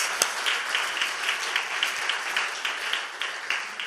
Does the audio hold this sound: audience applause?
yes